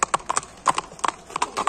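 A ridden horse walks at a steady pace, its hooves clip-clopping in crisp, evenly spaced pairs close by, with no voices over the steps.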